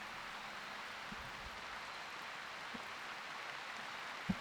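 Rain in a colony-building game falls as a soft, steady hiss of drops, faint and even, with a few low thumps scattered through.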